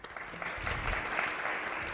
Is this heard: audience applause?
yes